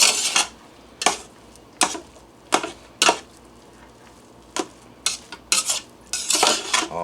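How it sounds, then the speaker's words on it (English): A spoon stirring Spanish rice in a pressure cooker pot, sharp metallic scrapes and clanks in irregular bursts against the pot, close and loud with quiet gaps between strokes. "Now we'll just give it a little stir."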